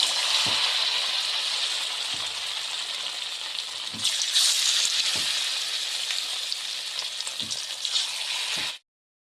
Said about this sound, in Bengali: তেলটা অল্প গরম হোক, ভেজে নিই।